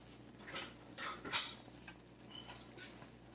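A small spoon is picked up from among dishes in a kitchen, making a few soft, close metallic clinks and light scrapes at a low level.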